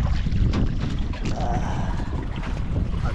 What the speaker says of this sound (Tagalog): ang hangin dito ay parang amihan na parang timog